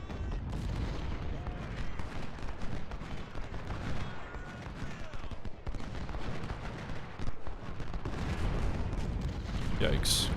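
Cannon and rifle fire in Ultimate General: Civil War during a Union battle at Bayou Forche: dense, steady, muffled volleys and booming artillery reports rolling on at moderate distance, layered with a continuous crackle of musketry.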